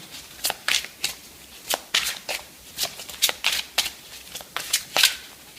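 Tarot cards are shuffled close by in a quick, uneven series of about a dozen crisp riffling bursts with short pauses between, and no talking.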